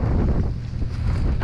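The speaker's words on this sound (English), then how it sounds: "This wind is absolute insanity." Strong wind buffets the microphone on a lakeshore during fishing, a steady, loud roaring rumble with no voices.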